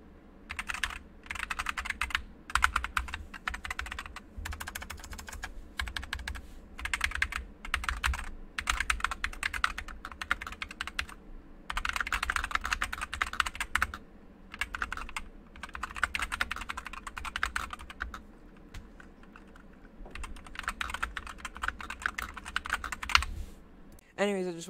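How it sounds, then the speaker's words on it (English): Keystrokes on a keyboard fitted with HyperX Pudding translucent keycaps, a steady run of fast, close clacks in bursts with short pauses, heard alone for about twenty-five seconds. "I just wanted to do a typing test to see if these keycaps make my keyboard sound any different"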